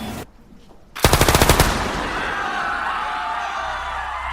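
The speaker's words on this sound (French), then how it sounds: "Un seul coup de feu déchire l'air, un écho sinistre de violence inouïe." A single loud gunshot from a submachine gun during a bank hold-up in Stockholm cracks out after a brief hush, followed by a rapid rattling burst and a long reverberant echo with distant cries.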